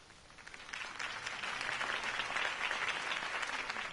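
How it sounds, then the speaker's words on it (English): A crowd applauds steadily in a video game, a dense wash of clapping that swells slightly and holds without voices rising above it. "could have heard that applause"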